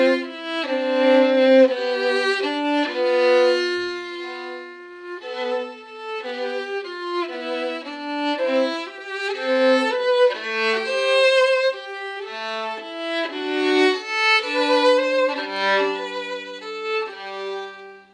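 A solo violin plays a Bach passage with eight notes slurred to each bow. The notes are bright and quick, flowing in smooth, continuous runs that stay close and clear throughout.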